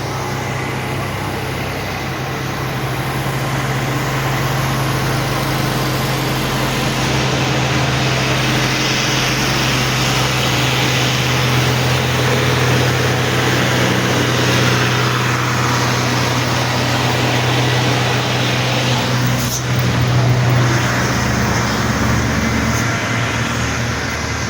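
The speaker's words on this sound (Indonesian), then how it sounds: "2 unit truk Fuso melintas di tanjakan Bukit Kodok ini ya bosku" Two Fuso trucks climbing the steep Bukit Kodok hill road, a loud steady diesel engine drone with a constant low rumble that builds slightly as they labor up the incline, heard up close outdoors.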